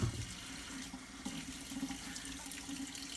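Tap water runs steadily into a kitchen sink while wooden chopsticks are washed with a little soap, a continuous close splashing hiss with no one talking.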